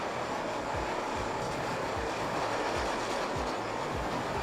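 An N subway train in the OpenBVE simulator runs steadily along the track, a loud constant rumble with rhythmic clickety-clack wheel beats repeating every half second or so, close and uninterrupted.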